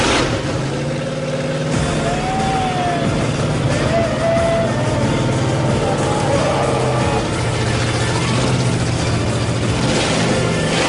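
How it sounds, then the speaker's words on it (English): A supercharged blower V8 in a built competition car fires and runs with a loud, steady rumble and rising revs, a continuous mechanical roar throughout with voices faintly underneath. "Nothing sounds as sweet as a blower motor."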